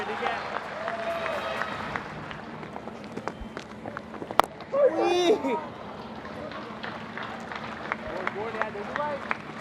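A Test cricket crowd applauds as 100 runs are completed with a single, on day 4 of a second Test. The scattered, fairly distant clapping sits under steady commentary, with a brief louder burst in the middle.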